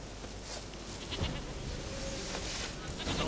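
A goat in the video game The Witcher 3: Wild Hunt, heading into a bear's den, lets out faint, brief bleats under a rough, constant noisy game ambience.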